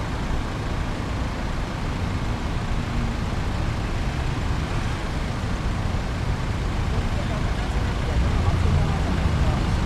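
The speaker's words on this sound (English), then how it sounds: "Look at all that traffic," Night-time city traffic in Athens, Greece: a steady, dense roar of passing cars and heavier vehicles, continuous and fairly loud throughout, with no distinct individual pass-bys standing out.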